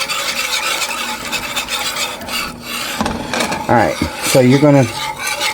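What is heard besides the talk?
whisking flour and milk for sausage gravy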